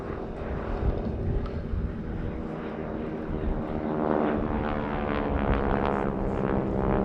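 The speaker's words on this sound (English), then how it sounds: "Here they are on the roll, the two Boeing Stearman Model 75s of the Aerosuperbatics Wingwalkers." Two Boeing Stearman Model 75 biplanes, re-engined with 450 horsepower radials, roll for takeoff at an airshow, a steady loud propeller drone that swells and thickens as they gain speed.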